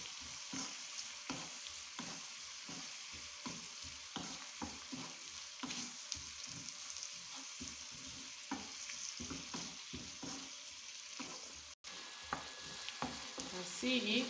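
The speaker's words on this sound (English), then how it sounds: "So you're stirring it." Coconut and sugar are stirred in a pan while coconut candy is made in Nigeria, giving a steady, close sizzle with rhythmic scraping strokes that continue throughout, alone and without talk.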